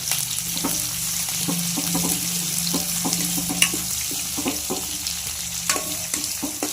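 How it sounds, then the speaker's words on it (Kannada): Onions fry in hot oil in a pan along with spluttering mustard seeds, a steady sizzle under scattered crackling pops and stirring scrapes for a raita of capsicum and curd. "ಈರುಳ್ಳಿನ ಹಾಕ್ಕೊಂಡು ನೀಟಾಗಿ ಮಿಕ್ಸ್ ಒಂದು ಸ್ವಲ್ಪ ಈರುಳ್ಳಿ ಕೆಂಪಗಾಗೋ ಗಂಟ ಹುರ್ಕೋಬೇಕು"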